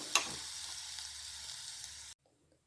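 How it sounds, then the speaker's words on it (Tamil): Drumstick leaves with salt are stirred in a hot pan, making a soft steady sizzle with a sharp scrape at the start, before the sound cuts off abruptly. "முருங்கைக்கீரை உப்பு சேர்த்து நல்லா கிளறிடுவோம்"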